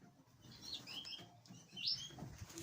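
Captive British finches and canaries in an aviary give faint, scattered chirps and short tweets over a low background rumble, with a couple of brighter calls standing out.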